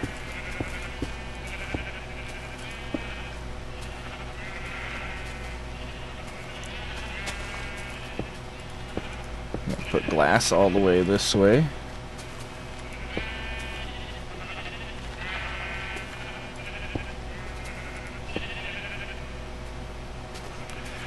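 Minecraft sheep bleat in short, scattered calls during gameplay, with a louder cluster of bleats in the middle while someone talks quietly over the top.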